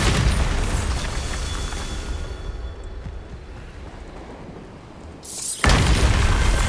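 The Bombarda spell explodes in the video game Hogwarts Legacy: a loud, broad rumbling blast fades over several seconds before a sharp second burst hits near the end.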